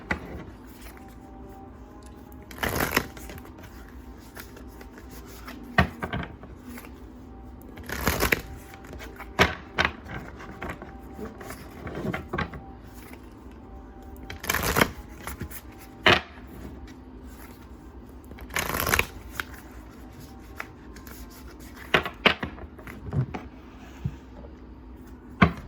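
Oracle cards shuffled by hand in a quiet room, a series of brisk, sharp riffling bursts at irregular intervals with softer card handling and rustling between them, close and fairly loud.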